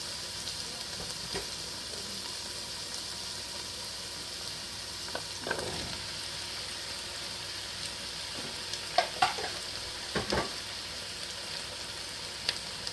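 Carrots sizzle in a pot for beef stew, a steady close frying hiss with a few scattered scrapes and clinks as they are stirred.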